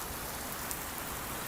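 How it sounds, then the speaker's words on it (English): Steady, heavy rain pours down in a dense, even hiss that fills the whole moment, with no pauses and no voices. "Look at this fucking rain."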